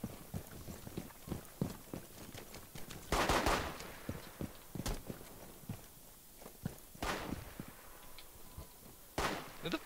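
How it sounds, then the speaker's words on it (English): Distant sporadic gunshots and scattered impacts from a Rainbow Six Siege match, with one louder burst, all over quiet footsteps and ambient game noise. "Who the fuck's just randomly shooting?"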